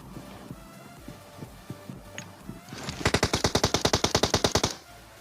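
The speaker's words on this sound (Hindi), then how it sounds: "अब इस बंदे को मार के मुझे उस तरफ से कुछ गन साउंड्स आते हैं" Rapid burst of automatic gunfire in a battle royale shooter game, about twenty evenly spaced shots close and loud, following quieter scattered game sounds and footsteps.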